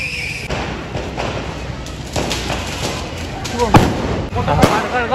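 Sharp Diwali firecracker bangs crackle and pop over a noisy crowd, with a few louder bursts near the end amid background voices.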